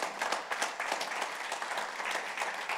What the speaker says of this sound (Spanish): Denles It aplausos.